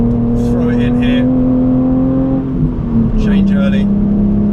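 A BMW Z4 engine holds a steady, loud drone on a track day, its pitch dipping slightly as the car shifts, with brief bursts of a man's speech over it.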